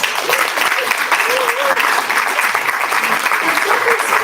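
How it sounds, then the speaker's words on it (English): Audience applause fills the room, steady dense clapping from a crowd heard near and continuous, with a voice briefly audible underneath. "Let's give a round of applause."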